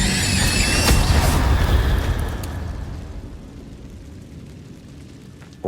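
A roaring fiery blast from the Incendio spell in Hogwarts Legacy, loud and dense at first, then fading into a long crackling rumble.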